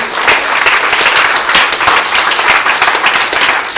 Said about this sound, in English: Can you give the Lord a hand clap of praise?